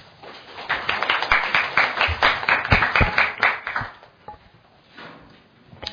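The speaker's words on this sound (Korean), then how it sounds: "여러분 박수 부탁드립니다." Audience applause at a constitutional reform debate forum in Korea as the panelists are introduced: a burst of close, dense clapping that swells, then tapers into a few scattered claps.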